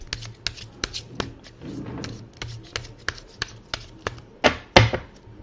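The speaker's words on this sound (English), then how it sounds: "Okay, let me shuffle a bit more." A deck of tarot cards being shuffled by hand: a run of sharp, evenly spaced riffling snaps, close and fairly loud, ending in a few heavier flutters, with no talking.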